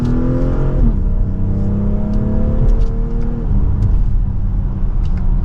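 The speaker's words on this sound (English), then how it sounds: "Mild acceleration, sounds good," A 2024 BMW X3 M40i pulls in second gear in sport mode, its engine note rising in pitch under mild acceleration, then dropping at a quick shift and climbing again, loud and close from inside the cabin.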